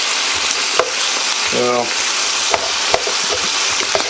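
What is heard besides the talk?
ingredients frying and being stirred in a pot for Guinness stew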